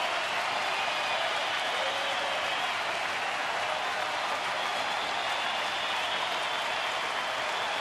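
A large baseball stadium crowd in Philadelphia rising and applauding, a dense, steady roar of clapping and cheering with no pauses.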